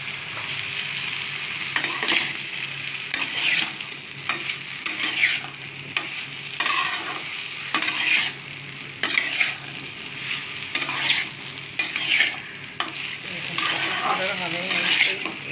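Bottle gourd fries with a soft sizzle in a pan while a utensil stirs and scrapes it in repeated clinking strokes, close and fairly loud, with no talk.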